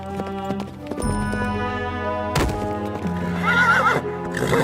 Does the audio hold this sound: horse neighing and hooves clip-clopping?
yes